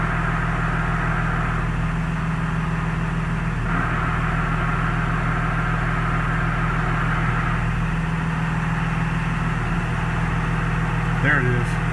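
A truck engine idles steadily with a G56 dual-disc transmission, a constant low rumble and drone holding close and even throughout with no one speaking.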